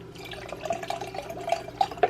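Fireball cinnamon whisky being poured into a glass, a faint trickle with soft liquid splashes and a few small glassy clinks, no talking.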